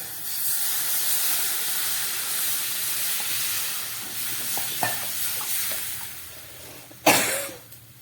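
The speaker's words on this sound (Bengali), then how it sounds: "এবার আমি দিয়ে দিচ্ছি জল" Water goes into hot oil with fried garlic, onion and chili in a pan for a Bengali pabda fish curry, giving a steady close hiss that ends in a loud steam burst.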